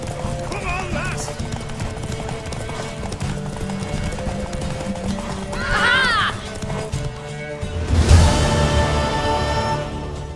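A horse in The Witcher 3 video game clip-clops along in a steady galloping rhythm, loud and close, with a sharp neigh midway and another burst of hooves and whinnying near the end.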